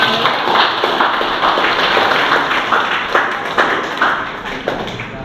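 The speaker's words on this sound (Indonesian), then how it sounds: "Tepuk tangan buat kita semua" A gathered congregation applauds during a parish thanksgiving Mass for a small Christian community's eighth anniversary: steady, fairly loud clapping from many hands, with scattered sharper claps standing out, lasting several seconds without talk.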